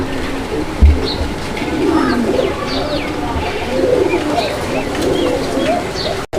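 Pigeons coo repeatedly in soft, throaty bursts amid a busy outdoor murmur at a pigeon market, with a few chirps mixed in.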